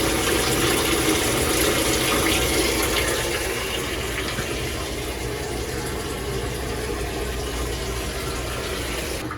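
A GE laundry center washer fills with water, a steady, loud rushing and hissing flow that runs continuously with a low mechanical hum underneath and no talking.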